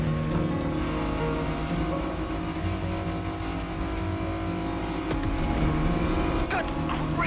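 A loud video game car engine roars continuously at high speed, with a steady droning hum and brief rattling thumps, no voices.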